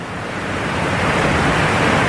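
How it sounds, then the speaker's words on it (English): A waterfall in Dean Village, Edinburgh, among houses, heard as a steady broadband rushing roar of falling water that grows slightly louder, from a little distance with no talk. "I'm kind of up the opposite side of the waterfall, so the sound's travelling away from me."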